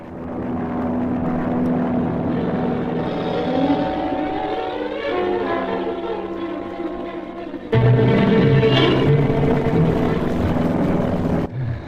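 A steady, loud airplane engine drone with a propeller throb fills a scene of a radio drama aboard an aircraft in flight, the pitch shifting slightly and swelling louder near the end, with no speech.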